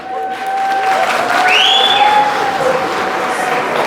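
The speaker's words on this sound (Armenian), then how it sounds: "կխնդրեի բարձր ու գեղեցիկ ծափեր հնչեցնեք հարգելի հավաքվածներ" Steady applause from wedding guests, sustained throughout with a faint tone sweeping above the clapping.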